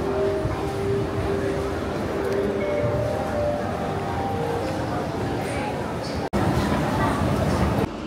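A Singapore MRT metro train rumbles at the platform with a broad, steady hum and faint tonal whine, while someone talks over it, ending with a brief click.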